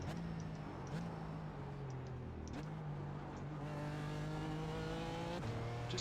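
A GT4 race car in the iRacing video game brakes hard for a corner at Summit Point, its engine note stepping down through several downshifts while the tires scrub, loud and continuous with no talk.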